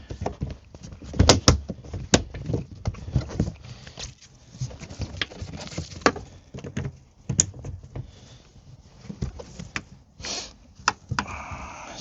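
Rubber door seal being pressed and worked around a used VW Golf Mk 7.5 GTD door makes scattered soft thumps, taps and rubbery knocks in irregular bursts, close by, with quiet pauses in between.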